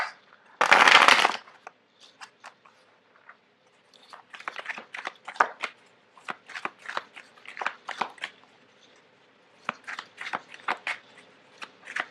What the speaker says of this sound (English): it's really difficult to shuffle on top of this tablecloth.